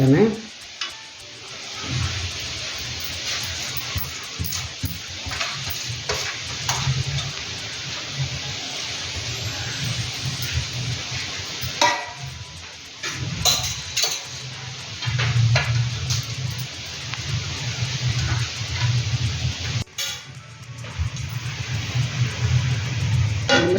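Golden-fried onions, raisins and cashews are stirred into a pot of prawn dum biryani, a continuous scraping and rustling with low sizzling and occasional clinks of a utensil against the pan, fairly close and steady.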